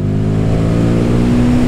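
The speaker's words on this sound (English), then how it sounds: "I'll rev the bike out in the gears" A Royal Enfield Guerrilla 450 motorcycle's single-cylinder engine revs under load through the gears, a loud, steady close-up drone with a rising tone and no speech over it.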